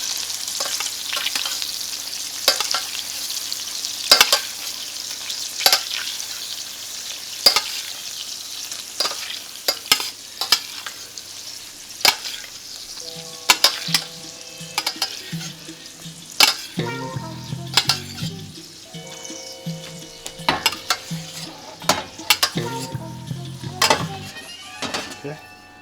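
A spoon bastes saltimbocca in a sizzling frying pan, with a constant hiss of hot fat under repeated sharp metal clinks and scrapes of spoon on pan; busier stirring and clattering build toward the end, close and fairly loud.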